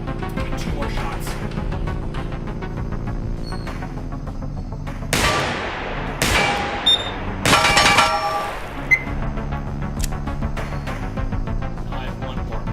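Receiver 2 video game gunshots, a few sharp loud bursts around the middle with metallic handling clicks, over a steady droning background with little talk.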